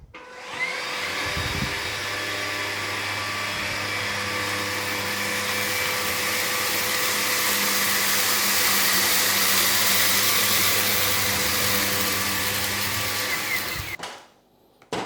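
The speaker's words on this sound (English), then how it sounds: "Let's try the vacuum on hard floor first and then we'll move over to the carpet." A Levoit LVAC200 anti-tangle vacuum cleaner runs in eco mode on a hard floor, picking up lentils, cornflakes and hair, a steady close whirring drone for about thirteen seconds before switching off, with no speech.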